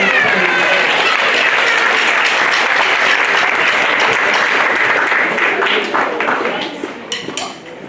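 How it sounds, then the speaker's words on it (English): A crowd applauds a school principal at Westinghouse, with loud, dense clapping that holds steady for several seconds before thinning out and fading near the end. "Give her a clap"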